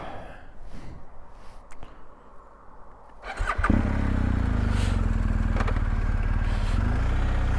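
Motorcycle engine starting once the ignition is switched on: quiet rustling and faint breaths, then a starter catch at about three seconds and a steady, close, loud idle rumble carrying on to the end.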